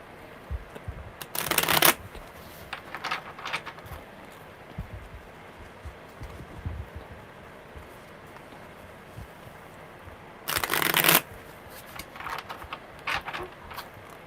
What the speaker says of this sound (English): Okay, one more good shuffle, Gustavo.